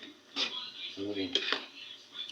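Spoon or ladle stirring pork adobo in a metal pot, producing a few light clinks and scrapes against the pan amid faint kitchen noise, with a voice speaking briefly.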